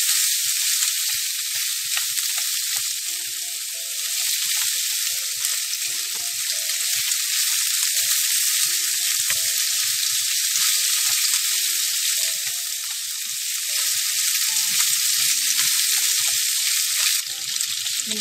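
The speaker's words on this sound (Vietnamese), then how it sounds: "Lúc này mình xào đều tay ha, cho nó đều đều nè, nó tướng mỡ ra" Small pieces of pork fat stir-fried in a pan as the fat renders out, a constant bright hiss of sizzling oil with faint intermittent stirring scrapes, steady and close throughout with no talk.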